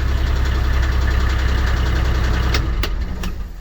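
A Kioti K9 2400 cab UTV engine runs at low RPM with the air conditioning on, giving a loud steady idling drone with rhythmic knocking pulses and a few clicks near the end, with no talk.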